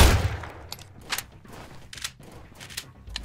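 Gunfire in the survival game Sunkenland: a burst of sharp shots, then a string of separate cracks spaced under a second apart, loud and close with no talk.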